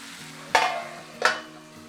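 French beans being stirred in a hot pan. Two quick scraping stirs rise over a soft, steady sizzle, heard close up and alone.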